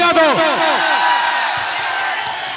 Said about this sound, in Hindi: एक बार जोरदार ताली हल्ला करके बजा दो